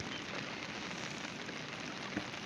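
Rain falls steadily on the ground under an overcast morning sky, a soft, even hiss of drops with no break.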